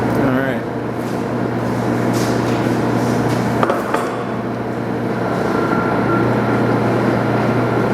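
An Axelson lathe running with its thread lead screw engaged, a steady mechanical hum and whir with a constant low drone and occasional knocks, heard close under continuous talk.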